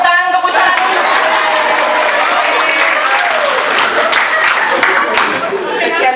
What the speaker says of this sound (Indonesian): Tepuk tangan untuk Bu Sarah.